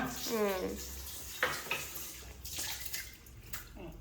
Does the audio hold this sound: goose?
no